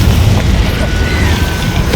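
A Confringo spell explosion in the video game Hogwarts Legacy, played on Xbox Series S, makes a loud, dense roaring blast that fills the whole moment without letup.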